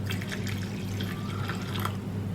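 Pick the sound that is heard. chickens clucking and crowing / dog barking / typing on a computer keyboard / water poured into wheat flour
water poured into wheat flour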